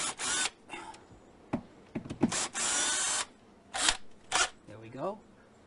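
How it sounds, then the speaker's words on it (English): A power drill backs out hinge screws on a door jamb, several short close whirring bursts with pauses between them, ending with a brief spoken voice. "We're going to unscrew these"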